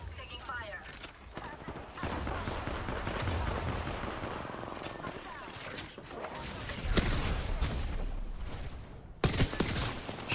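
Bursts of video game gunfire crackle through a busy, dense mix, with voices talking over the shooting throughout.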